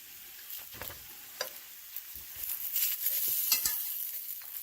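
Frozen burritos sizzle in an overheated non-stick pan, a steady crackling fry with scraping and stirring clicks from a metal utensil rising over a few seconds, close and fairly quiet.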